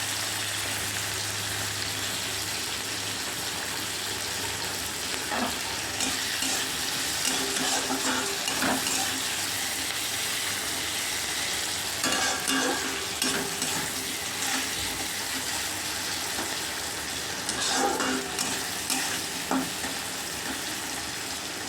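Whole green chillies frying in oil with garlic, a long steady close sizzle with intermittent stirring scrapes and occasional louder crackles, no voices.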